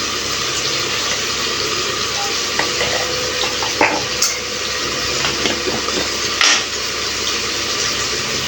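Rock salt and chili powder frying and being sautéed in a pan, with a steady broadband sizzle and scattered scraping stirs and clinks throughout, close and fairly loud, no voices.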